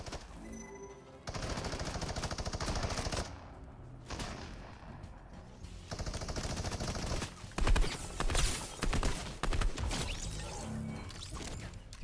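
Gunfire from two bots fighting in Fortnite plays as dense bursts of rapid shots and crashes, fairly loud and continuous with short pauses between volleys.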